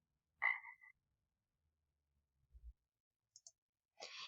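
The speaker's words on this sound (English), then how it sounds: "heard a funny noise and found a frog hiding in the grass" A frog croaks in grass, a short throaty call followed by a few brief clicking croaks and another burst, fairly close and isolated against near silence.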